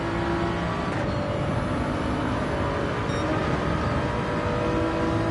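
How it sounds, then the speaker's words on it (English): Race car in Gran Turismo on the Dragon Trail circuit, its engine droning steadily and loudly as the turbo spools up coming out of a corner, a continuous, even roar with no talk. "coming out of the corner. Just as the turbo's spooling up."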